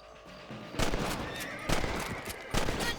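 Three loud, sharp rifle shots at rabbits in the western video game Red Dead Redemption, evenly spaced about a second apart, each with a brief rattling echo over quiet outdoor ambience.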